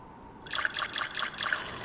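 Water trickles into a container in the survival game Osiris: New Dawn, a soft rhythmic dribble with about five regular pulses over a low ambient hum.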